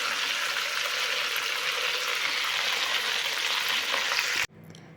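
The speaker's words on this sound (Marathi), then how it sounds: "असं छुटछुट वाजल्यानंतर आपण गॅस बंद करूया" Homemade ghee crackles and sizzles in a pan on a kitchen stove, a loud, dense, steady frying hiss close by that cuts off abruptly near the end, leaving near silence.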